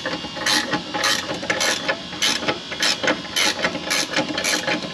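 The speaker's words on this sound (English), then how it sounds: "We will ratchet wrench it in." Ratchet wrench pressing an aftermarket rear differential bushing into an Infiniti G37, a close series of quick rasping ratchet clicks in rhythmic bursts, roughly two per second, with no speech.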